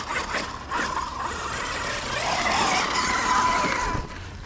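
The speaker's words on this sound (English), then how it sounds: "And drifting it is so fun." A Losi Super Baja Rey 2.0 RC truck drifts on open property, its motor whining and tires scrubbing across the ground in a short, steady burst.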